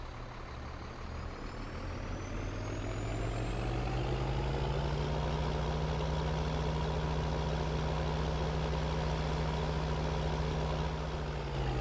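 A truck engine idles in Farming Simulator 2013, a steady low diesel drone with a rising whine that settles into a constant hum, unbroken and close for the whole stretch.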